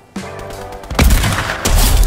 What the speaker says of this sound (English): Someone's taking a lot of shots at me.